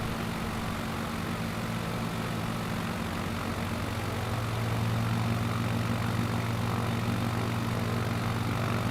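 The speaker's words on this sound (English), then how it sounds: "Throttle up and pull out of this." Propeller aircraft engine in the Flight Simulator video game, droning steadily and loudly, then rising to a stronger, deeper roar as the throttle opens about halfway through.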